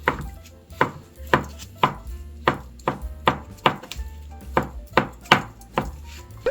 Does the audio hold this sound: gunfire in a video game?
no